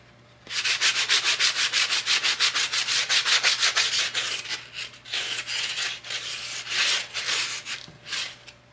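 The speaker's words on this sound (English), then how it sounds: "Alright, let's try the sanding block." Rapid rhythmic scraping of a sanding block across painted wood, steady strokes at first, then slower, uneven passes, close and fairly loud.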